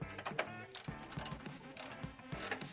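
Screws being driven to fasten a graphics card into a PC case, giving a run of quiet, rapid ratcheting clicks and small metallic ticks close by with no talking.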